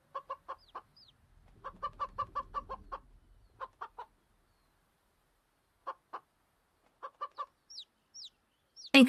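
Chicken in a video game giving clipped, evenly spaced clucks in short runs, with high chirps in between, close and clean over silence, ending in a loud burst.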